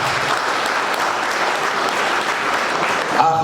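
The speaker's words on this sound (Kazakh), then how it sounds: "Дұғыл шапалақ болсын" A crowd bursts into loud, dense applause at an 80th birthday celebration, a steady wash of clapping that holds at full strength for the whole stretch with no break.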